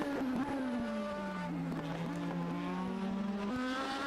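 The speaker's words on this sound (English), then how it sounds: "Risking his own car to provide Ben, his teammate, with a clear lap" A race car in a sim racing game holds a steady, droning engine whine that rises and falls slightly, with faint tire noise, continuous and fairly loud.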